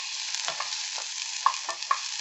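Salt pork frying in a pan for a pasta and cheese dish gives a steady close sizzle with a few sharp pops and light stirring scrapes.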